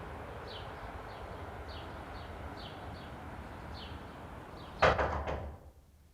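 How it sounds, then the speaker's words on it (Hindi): House door shutting with a sudden loud thud near the end, preceded by a quiet room tone with faint bird chirps outside, then fading to silence. "हमारे दरवाजे की आवाज है।"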